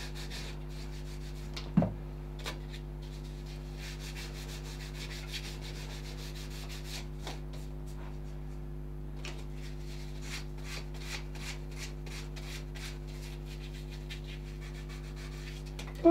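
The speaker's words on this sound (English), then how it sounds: "there's still a lot of rubbing down to be done" A carved wooden walking stick shaped like a black Labrador is rubbed down by hand, giving a soft continuous scratchy rubbing in quick strokes over a steady low electrical hum, with an occasional knock.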